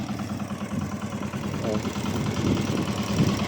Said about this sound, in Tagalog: So maandar yung makina rin